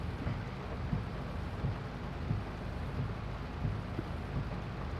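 A thunderstorm with rain in the Farming Simulator 22 game: a constant low rumbling wash of rain and distant thunder, with soft periodic low thuds underneath, steady and without speech.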